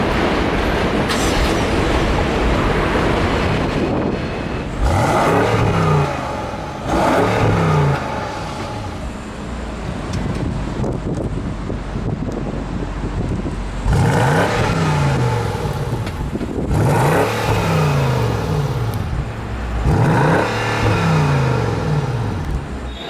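A 2020 BMW 750i xDrive with the optional M Sport exhaust revs repeatedly, its engine note climbing in loud bursts that rise and fall several times over a deep, steady idle rumble, close and with no talking.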